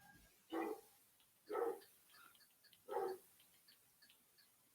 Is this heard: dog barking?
yes